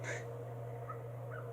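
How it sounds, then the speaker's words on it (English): Birds, eagles among them, cry out in the Sly 2: Band of Thieves game: a short raspy screech opens, then fainter calls follow over a steady low electronic hum, quiet and somewhat distant. "it's the eagles, or the other birds leading up to the island"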